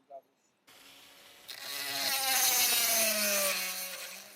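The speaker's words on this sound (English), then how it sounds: "I decided to use this multi-tool as well" An oscillating multi-tool cuts into the aluminium body of a VW Golf ignition assembly, a rising, steady buzzing rasp that starts after a brief quiet pause and holds loud and close for several seconds.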